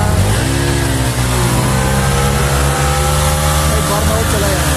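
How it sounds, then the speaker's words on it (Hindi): A brand-new motorcycle doing a burnout, its engine revving hard and loud, close by, with a steady roar and rising pitch sweeps throughout. "अपने शोएब भाई बर्न आउट करके दिखाएंगे नई बाइक है।"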